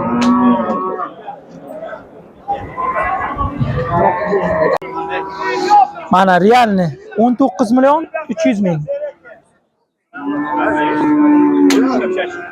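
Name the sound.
ox mooing at livestock market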